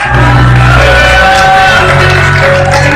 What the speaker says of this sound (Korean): 지금까지 토론해주신 이 토론자분께 큰 박수 한번 부탁드리겠습니다